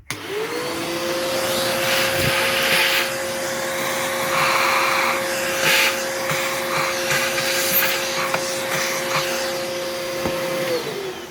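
A bagged Electrolux Twin Turbo 2 Super Z1070A upright vacuum cleaner switches on and runs with a loud, steady motor whine and airflow roar, close by, with some knocks and rattles while it is handled.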